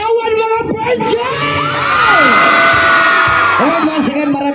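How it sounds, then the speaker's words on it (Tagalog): A concert crowd at a Filipino band's show in Hong Kong cheers, whoops and shouts loudly, voices swelling together into a sustained roar that rises in the middle and then trails off. "Isang hiyawan mga French!"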